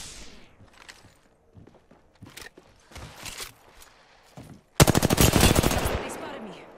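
Rapid automatic gunfire bursts out in a firefight in the Apex Legends battle royale, a fast loud string of shots arriving suddenly after quieter scattered footsteps and thuds, then fading.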